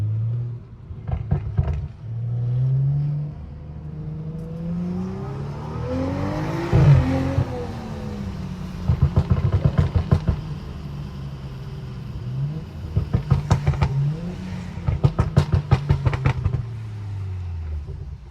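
Tuned BMW 435i rated at 420 hp revving hard while driving, with repeated loud rising throttle blips and several bursts of rapid crackling pops over a steady close engine drone.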